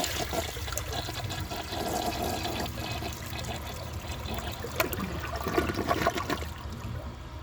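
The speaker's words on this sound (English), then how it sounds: "I'm going to give that another flush and see if it can take that out." A 1999 Porcelamex toilet flushes with a steady, loud rush of water that continues throughout, ending in gurgling trickles as the bowl refills.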